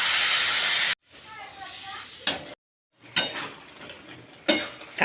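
Spice-paste water poured into a pan of frying vegetables for a Bengali pui greens dish, sending up a loud hiss that fades, followed by softer sizzling and a few clanks of a utensil against the pan.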